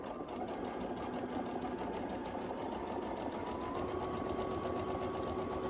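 A sewing machine stitches steadily through the fabric of a sewing machine cover, a continuous close whirring hum with no pauses and no voices.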